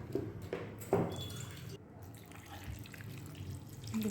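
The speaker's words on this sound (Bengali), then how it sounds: "আর আমি এই কাপের মাপে 2 কাপ জল দেব।" A cup of water poured into a pot of mango pieces, heard as a few short splashing gushes and drips in the first second or two, close and fairly quiet, followed by a low background hum.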